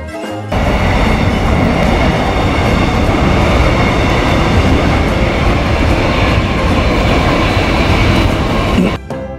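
A train rolls past close by, a loud, steady rumble with rattling wheels that fills about eight seconds before cutting off, with no voices over it.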